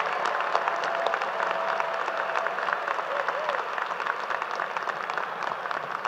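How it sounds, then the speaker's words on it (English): A crowd at a university commencement ceremony applauds after a speech, sustained dense clapping heard from some distance, with a faint whistle tone and scattered cheers mixed in. "Chancellor Gibson, let's give him a round of applause for an inspiring speech."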